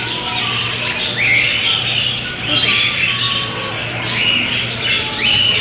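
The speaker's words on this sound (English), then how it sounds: "Whoa, look at the bird, guys." A bird squawks and chirps repeatedly in a busy, reverberant aquarium, its bright calls rising over steady crowd murmur and low mechanical hum.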